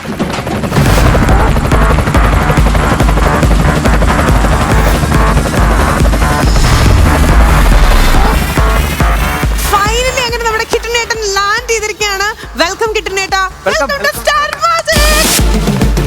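A heli-cam drone flies close overhead on a TV show stage, giving a loud, steady buzzing rotor drone that dominates at first, then eases as several people talk and laugh over it.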